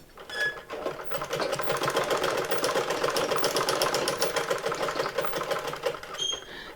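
A sewing machine stitches a saree blouse in one steady, rapid mechanical whir lasting about six seconds. It starts and stops abruptly.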